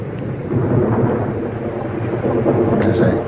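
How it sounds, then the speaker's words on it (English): Distant thunder from a far-off storm rolls as a steady, low, continuous rumble for a few seconds, with faint higher crackle near the end. "Listen for the thunder."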